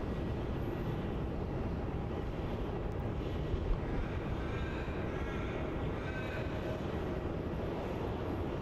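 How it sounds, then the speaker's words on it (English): A Jetstar Boeing 787 on final approach to runway 34 at Melbourne Airport, heard as a steady, fairly distant engine rumble with a faint high whine sustained throughout and no voices. "the next arrival on runway 34 is the Jetstar 787"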